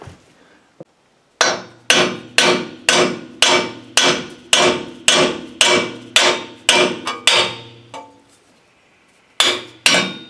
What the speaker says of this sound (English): Alright, what about a real hammer?